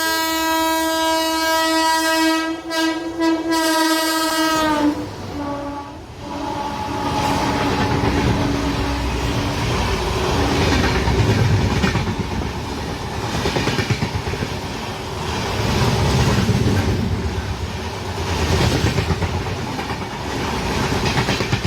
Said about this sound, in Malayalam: ട്രെയിൻ ഇപ്പോൾ വരുന്നതായിരിക്കും